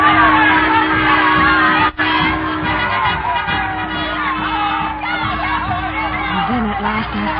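A dense crowd packed on a pier in a radio drama, waiting for a regiment to come home: loud, continuous chatter with scattered shouts and whoops filling the whole scene.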